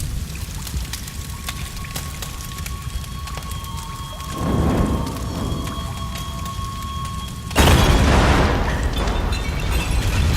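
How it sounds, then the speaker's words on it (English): A fiery explosion in the Tomb Raider game, bursting loudly into a broad roaring rumble that follows an earlier smaller blast, with debris-like noise continuing afterward. "Awesome explosion."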